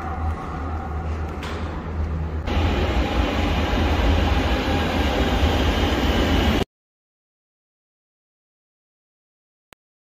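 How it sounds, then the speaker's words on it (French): Barcelona metro train running underground toward Espanya, a loud continuous rumble and rattle of wheels and carriage with a rising rush, cutting off abruptly into silence partway through. "descente dans le métro à Gloriès, du coup, vers Espagna"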